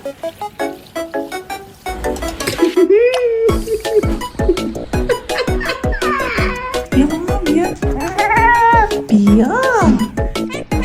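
Clingy house cats meowing repeatedly at close range, a string of loud, drawn-out rising and falling cries, mixed with people talking.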